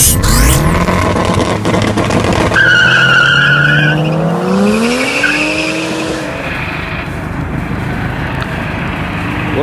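A Honda Civic ED6 with a high-boost engine street racing at night, its loud engine revving and tires squealing sharply, with passing cars sweeping by in a long continuous roar close to the listener.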